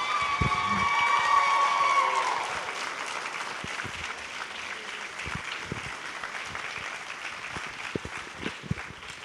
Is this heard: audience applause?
yes